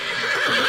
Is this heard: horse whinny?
yes